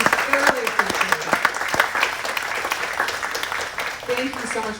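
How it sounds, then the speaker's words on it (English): Applause rings out for panelists at a Disney Wish entertainment panel discussion, loud clapping with a few sharp claps, and a voice speaks over it in the first seconds. "could you all give a huge round of applause for our panelists for joining us today"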